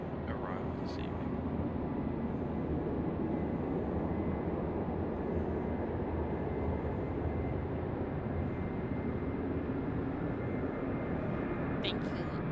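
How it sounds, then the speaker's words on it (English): A jet airliner taxiing at Raleigh-Durham International Airport gives a steady, distant engine roar throughout, with faint voices in the background. "Sounds like there's another one about to taxi out."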